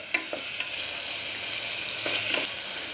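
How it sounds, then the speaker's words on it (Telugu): Tomatoes cook with salt and turmeric in a hot pan, sending up a steady bright sizzle broken by a few light spatula taps, close and without any talking. "ఈ టమాటా అనేది కొద్దిగా ఒక నిమిషం పాటు మగ్గనివ్వాలండి"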